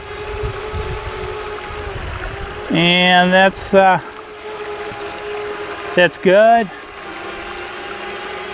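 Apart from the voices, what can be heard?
DJI Spark drone flying low over a river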